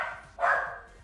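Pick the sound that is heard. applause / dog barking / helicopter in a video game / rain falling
dog barking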